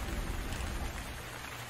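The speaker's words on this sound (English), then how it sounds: "The rain stops." Steady rain falls in an animated jungle scene, a dense, even hiss of drops that stays constant throughout with no voices.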